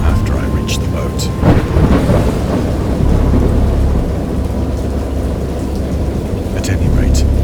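A wild thunderstorm with heavy rain, deep rolling thunder swelling and fading over steady downpour, loud and enveloping with bright crackles of rain throughout.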